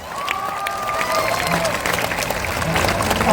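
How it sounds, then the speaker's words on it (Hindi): A crowd at a Jan Suraaj Party foundation-day rally applauds loudly for a mathematics teacher, steady clapping and cheering that swells toward the close amid a busy, echoing hall. "इनके लिए ताली बजाइए जोर से।"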